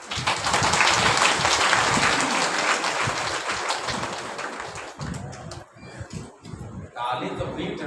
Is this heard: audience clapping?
yes